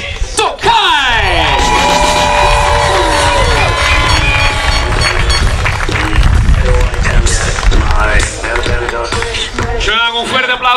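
Loud crowd at a football team presentation cheering, whooping and shouting, with whistles and yells over an energetic roar and a voice on a loudspeaker.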